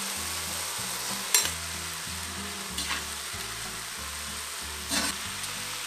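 Leeks and fennel sizzling in a hot pan, a steady quiet crackle with a few sharp clinks of a utensil against the pan, close by and with no talking.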